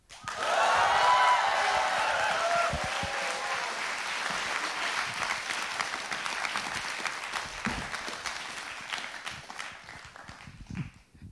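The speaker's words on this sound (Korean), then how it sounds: "연극 공연하실 때 이렇게 박수 소리 듣고 시작하세요?" Studio audience applause welcoming an actress onto a broadcast stage, a full burst of clapping that starts strong, gradually thins into scattered claps and dies away, with a few faint voices at the start.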